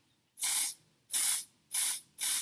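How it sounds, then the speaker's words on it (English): Four short sprays hiss from a pump bottle of foundation onto a makeup brush, each a sharp burst separated by brief silences. "I'm going to spray a little bit on the brush"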